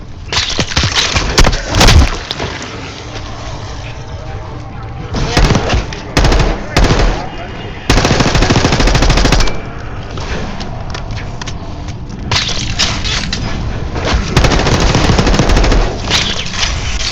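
Loud, close gunfire in a Call of Duty Black Ops 6 zombie mission, rapid automatic bursts and volleys recurring across the span with short gaps, dense and harsh throughout.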